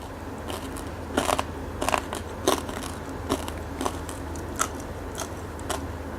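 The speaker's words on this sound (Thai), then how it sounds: "อร่อยมาก แอมกับแคปหมูค่ะ" Someone bites into and chews crunchy Thai pork crackling, khaep mu, with about a dozen sharp crisp crunches spaced irregularly over a steady low background hum, close to the mic and with no speech.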